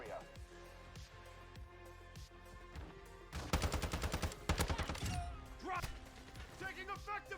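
Automatic rifle fire in a first-person shooter game, running the Hemlock: a steady series of single shots, then dense rapid bursts and sustained loud fire, with game voices shouting callouts over it.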